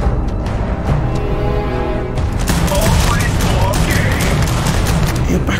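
Gunfire in the Starfield video game erupts as a rapid burst of loud shots and booms, continuing in dense volleys with mechanical clatter while a voice speaks briefly.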